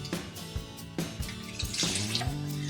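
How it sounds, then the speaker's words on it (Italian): Water with a little fresh yeast dissolved in it is poured into a stand mixer bowl for Neapolitan pizza dough: a steady running, splashing pour in several bursts, close and fairly loud, with no talking. "in una planetaria andiamo a versare 600 ml di acqua dove abbiamo sciolto 1 grammo di lievito fresco"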